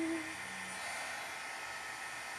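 A hair dryer blows steadily to dry a watercolor painting, a constant close, even whoosh of airflow with a brief low hum at the start and no talking.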